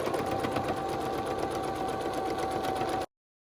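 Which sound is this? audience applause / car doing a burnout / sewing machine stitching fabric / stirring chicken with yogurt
sewing machine stitching fabric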